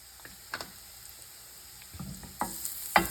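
Mushrooms frying in a pan with ginger paste give faint, scattered sizzles and a few scraping stirs, quiet and close with sparse crackling bursts toward the end.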